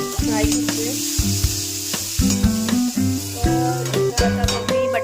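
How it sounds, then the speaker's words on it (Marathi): Cumin and chili frying in hot oil for a potato curry, a steady close sizzle broken by repeated stirring knocks and clanks. "आपण जिरं टाकलेलं आहे आणि आता आपण मिरची टाकते. मस्तपैकी फ्राय करते."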